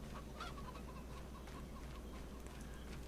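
Chickens clucking inside a barn in the Farming Simulator 25 video game, a steady cluster of soft clucks and chatter over a constant low background hum, with no talking.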